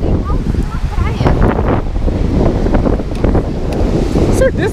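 Freshwater waves wash onto the shore of Lake Taupo in New Zealand while strong wind buffets the microphone, a loud continuous rushing surf with gusty noise and faint voices in the background.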